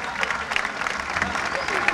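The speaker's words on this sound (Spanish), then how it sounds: "¡Fuerte el aplauso!" A crowd gives a burst of applause at the Juan Filloy book fair ceremony for a young prize winner. The clapping is steady and lively throughout, with some voices mixed in.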